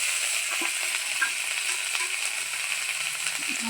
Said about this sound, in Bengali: তারপরে পেঁয়াজ পাতাগুলো একটু হালকা করে ভেজে নেব।